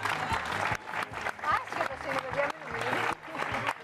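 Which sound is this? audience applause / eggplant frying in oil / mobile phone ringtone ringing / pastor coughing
audience applause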